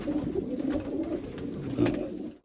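A Chinese pigeon coos close by in two soft, throaty bursts over a low background hum, with no one speaking.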